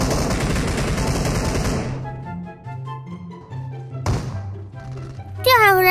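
Gunfire in a battle royale shooter game: a burst of rapid shots at the start, then a few sharp single thumps and a final crack, mixed with game sound effects and a voice talking over it.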